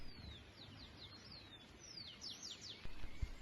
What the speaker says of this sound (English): I really love just listening to the sounds of the birds and looking across the valley